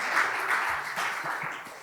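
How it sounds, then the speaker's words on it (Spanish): Audience at a lecture gives a short burst of steady applause, moderately loud and tapering slightly toward the end. "Vamos a darles un aplauso para animarles."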